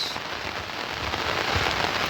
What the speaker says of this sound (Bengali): সকাল থেকেই মোটামুটি বৃষ্টি ভালোই হচ্ছে।